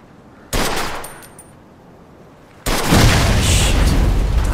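Gunfire at a car's gas tank in the Mafia II video game: a sharp blast that rings and fades, then a second, heavier explosion that roars on loudly and steadily.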